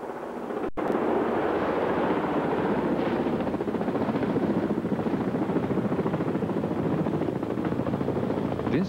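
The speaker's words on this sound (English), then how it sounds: "With the road clear, the helicopter is able to conduct the extraction." A military helicopter during a Force Recon troop extraction, a loud, continuous rotor thump and engine roar close by, with wind buffeting throughout and a brief cut near the start.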